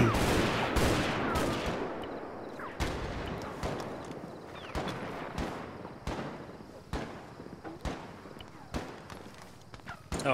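Rapid bursts of video game gunfire in a military-style match crack out repeatedly over ten seconds, loud and close, with sharp volleys and scattered single shots while players talk over the shooting.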